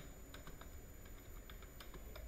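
Someone types a comment into a Fortran program on a computer keyboard: quiet, irregular keystrokes tapping in a loose rhythm over faint room hum, with no voices.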